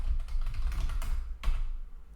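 Fingers type on a computer keyboard while entering C++ class code, a quick run of close, soft key taps lasting about two seconds.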